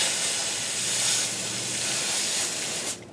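A steady hiss of pressurized water spray rinses a tire cleaning brush, broadband and fairly loud for about three seconds before cutting off abruptly.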